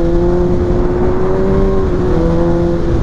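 A 2020 Kawasaki ZX6R sport motorcycle engine holds a loud, steady high-rpm drone, a constant buzzing tone with a slight pitch dip midway, close and continuous with wind rush underneath.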